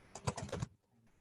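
A short burst of computer keyboard typing, five or six quick close keystrokes that then stop into near silence.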